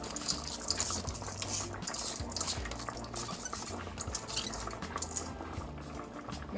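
Rice tipped into a boiling pot for Jamaican rice and peas with homemade coconut milk: a steady bubbling, pouring rush with faint stirring clinks, close and continuous with no talking.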